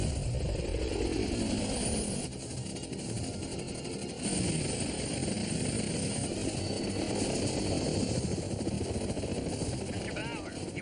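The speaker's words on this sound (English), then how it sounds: "Air Force choppers are closing in on his position." Air Force helicopters closing in, a steady droning rotor and engine roar that holds throughout, with voices speaking over it.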